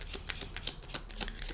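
Crystal oracle cards being shuffled by hand in a quick run of crisp riffling slaps and flutters, close and steady, with no talking over them.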